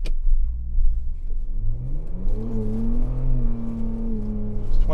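A 2022 Ford Bronco Raptor engine revs hard on a snowy hill climb, a loud close roar rising in pitch and holding, with rumbling low end and tire noise throughout.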